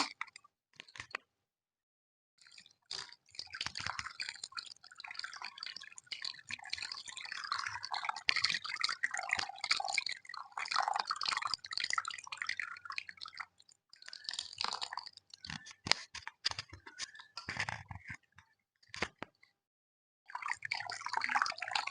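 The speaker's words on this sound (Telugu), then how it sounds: "ఇప్పుడు చింతపండు పులుసు పోసుకున్నామండి" Tamarind juice for a raw tamarind rasam is poured into a bowl, giving a steady run of close wet splashing and dripping with brief pauses near the start and end. No one talks.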